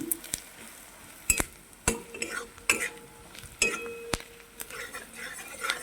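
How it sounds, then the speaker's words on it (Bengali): Spices with red chilli powder are stirred and fried in hot oil for a spicy prawn curry, with a soft sizzle beneath repeated sharp scrapes and clinks of a spatula against the pan, close and intermittent, no talking. "এবার এটা আবারও তেলের পরে কষিয়ে নিচ্ছি"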